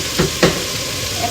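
Tonjiru miso soup stirred in a pot, with two short scraping strokes of the spoon close by over a low, steady background hiss.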